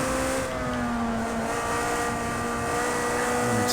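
Ferrari Challenge race car engine in Project Cars 2 at the Mugello circuit, a steady, loud high-revving drone with shifting harmonic tones as it climbs through the gears, continuous and close throughout.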